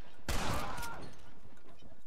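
A single loud sniper rifle shot in Red Dead Redemption 2, a sharp crack with a lingering reverberant tail that fades over the next second.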